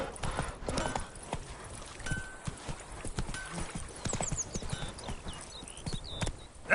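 Roach, a horse in The Witcher 3, galloping with steady rapid hoof clip-clops on the ground, moderately loud throughout, with faint game ambience and occasional high chirps over it.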